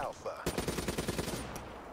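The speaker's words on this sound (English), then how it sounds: "I heard gunfire." A rapid burst of automatic gunfire in Call of Duty: Black Ops 3 multiplayer rattles for over a second, loud and close, with a single extra shot trailing after.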